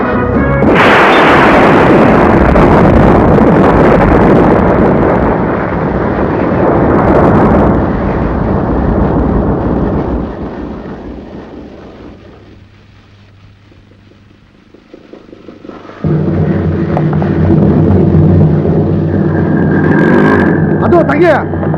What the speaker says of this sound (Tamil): வெடி வச்சிருக்கா, திருப்பி போங்க.